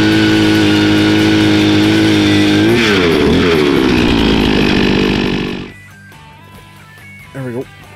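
Powered ice auger drilling through lake ice on a frozen lake, a loud continuous motorized whine that bogs and surges as it bites, then cuts off abruptly, leaving a quiet outdoor background with a brief soft noise.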